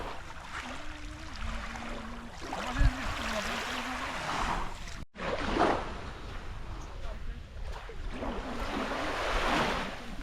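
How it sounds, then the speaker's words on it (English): Gentle waves wash onto calm Lonely Beach on Koh Rong, a soft surf whoosh rising and falling under steady wind noise, with a person talking and other voices murmuring over it. "This is an incredible beach."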